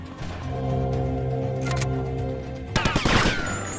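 Gunfire in Grand Theft Auto Vice City: a burst of rapid shots late on, sharp cracks stacked over steady game music and ambience, loud and close.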